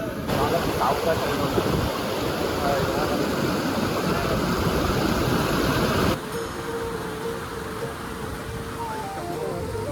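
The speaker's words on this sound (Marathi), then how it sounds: "इथे जो तुम्हाला पाणी दिसते तो चोवीस तास मित्रांनो वाहत असते" Water rushing nonstop at the Harishchandragad temple, with a waterfall nearby, forms a loud, steady broadband roar that drops slightly in level partway through, with crowd noise in the background.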